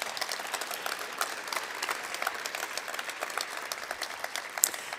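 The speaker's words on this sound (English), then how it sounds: "let's have a nice round of applause for everybody here" A crowd at an announcement for the 2020 World U17 Hockey Championships gives a round of applause, a steady patter of many hands clapping, fairly soft and somewhat distant.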